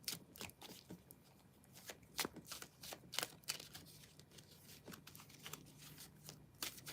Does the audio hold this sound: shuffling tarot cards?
yes